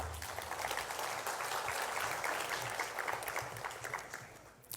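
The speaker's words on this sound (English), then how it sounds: "Maybe a thunderous applause." A conference audience at the annual SAARMSTE gathering applauds, a dense, sustained wash of many hands clapping at an even level throughout, heard from a distance and fairly quiet.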